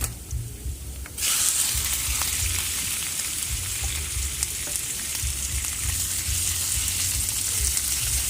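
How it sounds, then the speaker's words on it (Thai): Minced pork hits hot oil with golden garlic in a small camping pan and erupts into a loud, steady sizzle after a quieter start, with faint stirring scrapes throughout and no talk. "พอกระเทียมเริ่มเหลืองแล้ว ครับ แล้วก็ หมูสับเข้าไปเลย"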